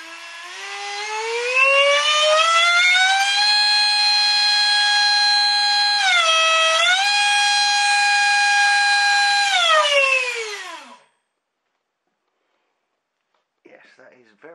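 A 60mm electric ducted fan motor spins up into a loud, high-pitched whining roar, holds at high speed with a brief dip in pitch, then winds down and stops; faint speech follows near the end.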